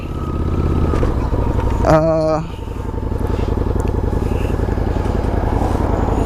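A Honda Goldwing motorcycle engine runs loud and close, with a brief sharp rise in pitch as it revs, then settles back into a steady rumbling idle.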